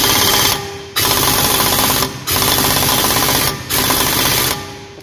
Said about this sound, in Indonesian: Kita coba pakai impact.